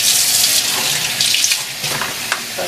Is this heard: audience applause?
no